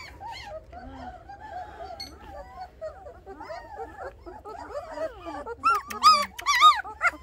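Litter of 2.5-week-old German Shepherd puppies whimpering and crying for their mother, thin high squeals and yelps that grow louder and more frequent toward the end, heard close up.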